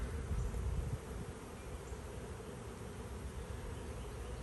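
Steady, dense buzzing of many honeybees close by at a hive, a continuous low hum throughout.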